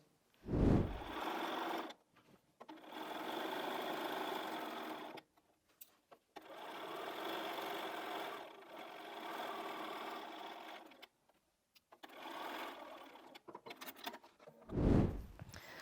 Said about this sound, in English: we're just going to finish off that seam